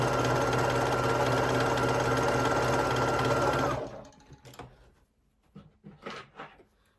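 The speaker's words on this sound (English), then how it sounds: "we're going to sew your 1/4 inch or scant 1/4 inch" A sewing machine stitches a quarter-inch seam on quilt pieces with a loud, steady whirring hum for about four seconds, then stops. Quiet handling sounds and fabric rustling follow.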